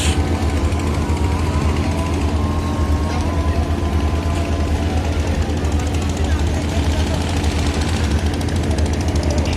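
A trawler boat's steady, low engine drone chugs on without pause at Sadarghat launch terminal, Dhaka, with a faint murmur of voices in the background.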